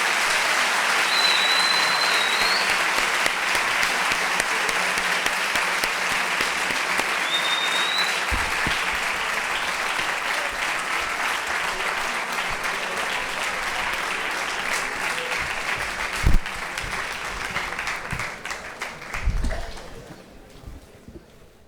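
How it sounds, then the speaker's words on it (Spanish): An audience at a university debate applauds warmly, a dense sustained clapping that fills the room for about twenty seconds before thinning out and fading away. "pues un fuerte aplauso, por favor."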